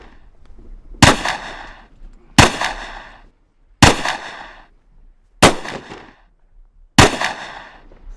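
Rifle shots at shooting practice: five sharp, loud reports spaced about a second and a half apart, each with a short ringing decay, and near silence between them.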